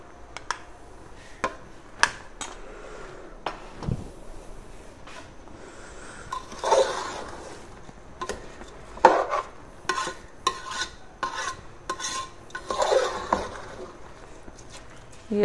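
Ingredients for Indian potato rice with finely chopped tomato are stirred and frying in a pan, with soft scraping and clinking of a spoon against the metal in irregular taps, fairly quiet and close.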